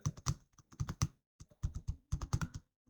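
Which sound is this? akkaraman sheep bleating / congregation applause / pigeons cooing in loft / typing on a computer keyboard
typing on a computer keyboard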